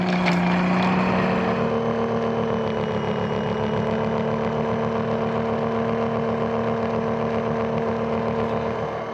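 A Yarbo robot snowblower clearing snow around outbuildings, its motor and front auger giving a steady, continuous mechanical drone with a fixed hum, close and unbroken throughout.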